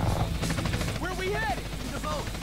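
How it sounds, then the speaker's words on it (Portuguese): Helicopter in GTA San Andreas, a steady rumbling rotor wash with rapid choppy pulsing that runs through the whole stretch, with a voice-like sound partly over it. "Um helicóptero."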